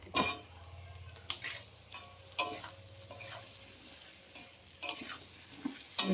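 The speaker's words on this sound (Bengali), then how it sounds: "বেগুনটা একটু কষিয়ে নেবো সুন্দর করে।" Eggplant sautés in a pan with salt, a soft steady sizzle broken by repeated scraping stirs of a utensil against the pan at irregular intervals.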